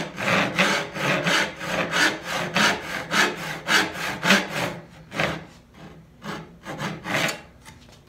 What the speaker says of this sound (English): I'm going to just go ahead and start sawing.